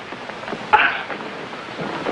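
A single abrupt sneeze bursts out once in a quiet room, brief and fairly close, with faint background hiss before and after.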